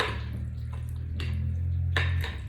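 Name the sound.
pouring turkey tetrazzini mixture into a baking dish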